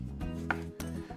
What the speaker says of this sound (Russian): Первым делом нарезаем лимон.